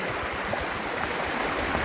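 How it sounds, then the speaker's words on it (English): A creek swollen after rain rushes strongly close by, a steady, dense, unbroken wash of flowing water with no voices. "the volume in our creek has picked up"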